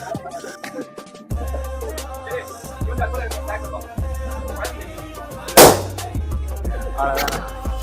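A blown-up balloon bursts with a sharp pop partway through a school balloon-blowing contest between boys, set among background clatter and a lively crowd.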